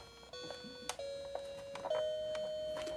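An electronic toy plays faint beeping tones after its volume has been reduced with a resistor, a soft sustained tone with a few clicks over background noise.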